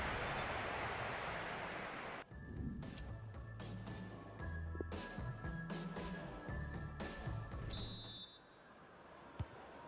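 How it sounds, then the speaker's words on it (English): Heavy rain on the pitch in a FIFA 19 match between Crystal Palace and Manchester United starts as a loud, dense hiss, then cuts off after about two seconds, leaving quieter stadium and game sounds. "the rain has continued through half-time and it is relentless"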